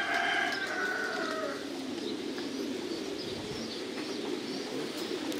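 Thai pigeons on a farm coo and chirp in a busy, continuous chorus of overlapping calls, with steady flock noise underneath and no talking.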